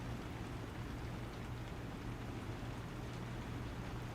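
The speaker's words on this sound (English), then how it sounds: "It's raining." Rain falls outside in a steady, even wash of hiss with a low hum underneath, continuous and moderately distant.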